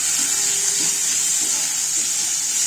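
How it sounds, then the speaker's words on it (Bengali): Onions drop into hot mustard and soybean oil in a pan and start frying, giving a steady, loud hiss and sizzle that holds evenly throughout, close up and with no speech. "চলো বেগুনটা তুলে নিয়ে আবার পেঁয়াজ দিয়ে দিলাম।"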